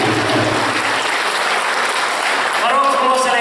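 An audience applauds young female vocal soloists at a summer concert, a dense steady clapping close by and loud, with a voice briefly rising near the end.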